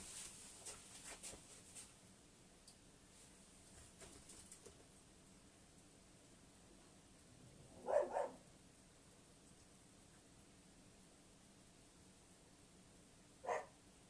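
A dog barks in two short bursts, a double bark near the middle and a single bark later, sounding somewhat distant against a quiet indoor background with no talk.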